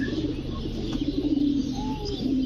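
Giribaz pigeons coo close by, a low, throaty rolling call repeated several times over a steady background murmur of more birds.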